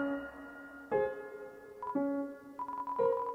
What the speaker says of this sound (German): Ich probiere es noch einmal. Toriels Handy.